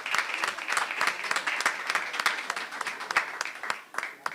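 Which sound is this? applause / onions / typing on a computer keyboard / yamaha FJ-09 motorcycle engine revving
applause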